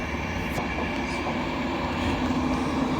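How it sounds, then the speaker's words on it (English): An Intercity Swallow-liveried Class 91 electric locomotive, 91109 Sir Bobby Robson, on the back of a train at Grantham on the East Coast Main Line, giving a steady, loud, close rumble and hum of passing rail traffic with no pauses. "Got the old Intercity Swallow 91 on the back"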